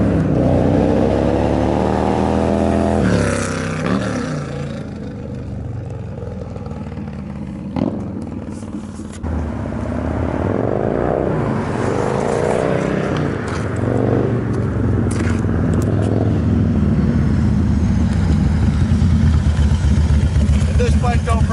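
2004 Harley-Davidson Dyna Super Glide motorcycle ridden hard up and down a street on a freezing day, its loud engine rumbling and revving steadily throughout, close and continuous with rising and falling throttle.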